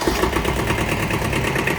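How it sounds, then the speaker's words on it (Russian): A Kubota B7000 mini tractor engine with a glow plug catches and settles into a steady, loud, close mid-pitched chugging idle, heard alone. "Трактор запускается."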